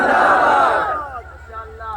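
A large crowd at a religious gathering roars a chanted reply to a slogan call, loud and full at first and then fading into a scattered, echoing tail.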